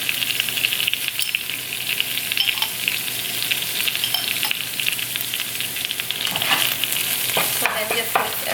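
Cauliflower rice with sesame oil and soy sauce is stirred in a hot pan, giving a loud, continuous close sizzle broken by scattered spatula scrapes and clicks.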